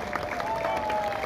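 An audience claps for a wushu demonstration at an NTPC program in Salakati, Kokrajhar, in 2023. The applause is steady and dense for the whole moment, with a sustained tone running through the crowd noise.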